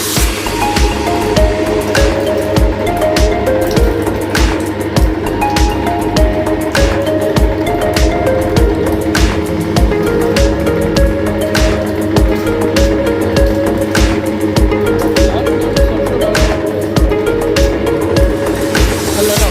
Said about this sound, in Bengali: দেখে নিন যে মেশিন কিরকম ভাবে কি চলছে কিরকম ভাবে প্রোডাকশন হচ্ছে